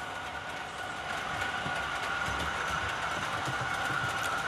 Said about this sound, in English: I've got the Roco Tiger maintenance train coming through the tunnel now.